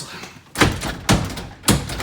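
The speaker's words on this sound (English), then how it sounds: "This door actually closes." An RV's back door, on a camper conversion, shuts three times in a row with close, heavy thuds about half a second apart, each followed by a short rattle.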